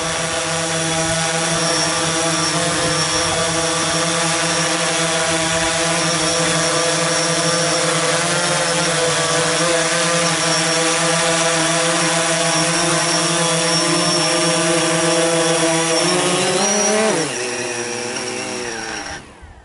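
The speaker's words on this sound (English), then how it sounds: "keep it above your head until the propellers have completely stopped" A DJI Phantom 4 quadcopter's propellers whine loudly and steadily at close range while the drone is held overhead after a hand capture, then wind down and fade out near the end.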